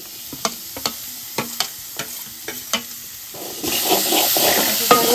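Boiled humbar stirred into frying masala in a pan: several sharp spoon scrapes and clacks against the pan, then a louder, steady sizzle as the mixture hits the hot oil.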